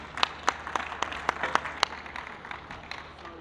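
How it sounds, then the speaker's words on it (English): An audience applauding panelists at a minerals conference, scattered distinct claps ringing out near and fairly sparse at first, then thinning into a softer patter. "So please join me in giving a round of applause to our panelists."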